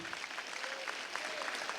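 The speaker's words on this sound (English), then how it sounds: "Let's give him a round of applause for allowing us to be here in this facility" An audience at a firefighter graduation in a performing arts center applauds briefly, a dense, moderately loud patter of clapping.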